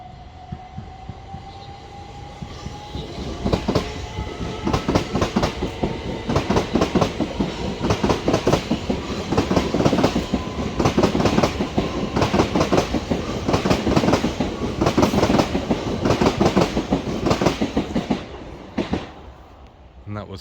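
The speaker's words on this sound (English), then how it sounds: "Just while I'm sat here, there's a Southern service departing for Victoria," A Southern Class 377 electric train departs a station platform for Victoria, its wheels clicking rhythmically over rail joints, the clatter building and holding steady close by before fading, with a faint rising motor whine at the start.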